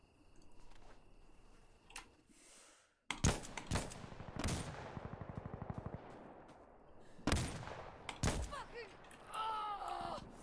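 Gunfire in Insurgency Sandstorm, a PvP realistic shooter: sharp, loud shots and short automatic bursts separated by quieter gaps, with a rapid rattling volley in the middle and echoing tails.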